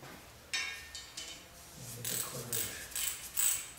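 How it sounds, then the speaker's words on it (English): A ratchet wrench clicks in short bursts while undoing the crankshaft nut during dismantling of a P3 engine, faint and close, with mechanical tool rattles between strokes. "So we're going to undo the nut."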